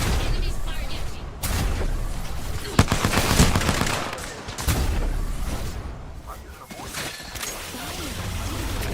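Gunfire in the video game Apex Legends, bursts of rapid shots and booming hits coming in close, repeated waves, loud and dense with game effects throughout.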